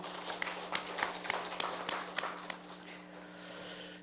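In a church, worshippers clap to encourage the choir. Scattered, fairly close hand claps with distinct sharp hits at first, easing into a softer, sparser patter toward the end.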